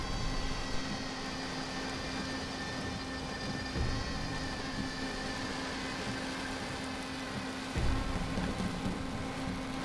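Steady rain falls during a journey in Cianjur, West Java, a continuous, even hiss with a faint low hum beneath and occasional heavier thuds.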